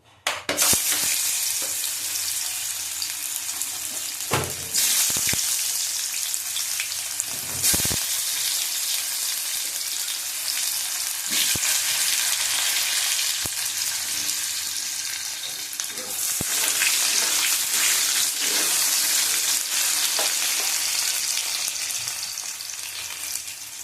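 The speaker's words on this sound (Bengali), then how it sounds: "আলুটা ভেজে নেবো।" Potatoes fry in hot oil in a pan with a continuous, loud crackling sizzle, broken by occasional clinks and stirring scrapes, for a Bengali soybean bori curry.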